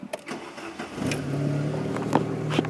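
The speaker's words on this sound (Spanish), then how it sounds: "Vamos a echar a andar el carro" A Chevy C1 truck with throttle-body injection cranks and catches, its engine settling into a steady close idle after a brief starter whir.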